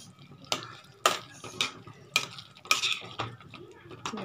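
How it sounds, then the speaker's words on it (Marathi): Pav bhaji vegetables being stirred with butter in a pan, a spoon scraping and knocking against the metal in a regular rhythm roughly every half second, close and clear, with a faint sizzle beneath. "याचं आपण त्यामध्ये बटर टाकून घेतलेलं आहे. आता आपण छान असं मिक्स करून घेऊया."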